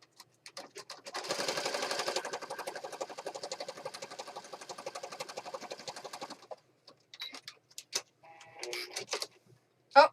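A sewing machine stitching a page of an accordion-fold journal, with a rapid, steady mechanical run of about five seconds followed by short bursts of stitching and handling noises.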